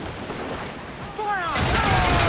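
Cannon volley fired from a ship in Assassin's Creed 4 Black Flag, a loud burst of booming shots that comes in abruptly after a murmur of shipboard noise and voices, with shouting over the blasts.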